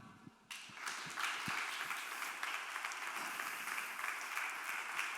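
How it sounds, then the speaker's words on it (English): Audience applause at a re:publica 2013 conference session as speakers are welcomed, beginning suddenly after a short quiet moment and continuing as a steady wash of clapping from a large hall. "So give a warm applause and welcome to Kai and Monis online."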